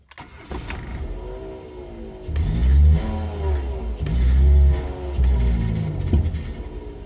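A Ford Ka 2004 1.6 engine after a fuel pump replacement, with power loss, revving up in three loud surges that sag and die away, close by and rough, with an uneven idle in between.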